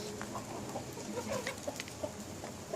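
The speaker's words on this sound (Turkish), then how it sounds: "Evet tavuklarımız buğdayı yiye dursun." Chickens cluck softly while pecking at wheat, scattered short calls and pecks close by over a steady outdoor background, no speech.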